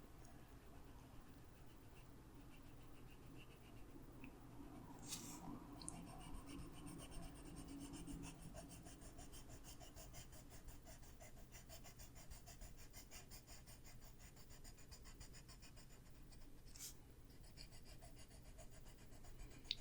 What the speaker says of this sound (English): with this one we can press pretty hard because we're also burnishing the colors up at the top so you don't see any white coming through the page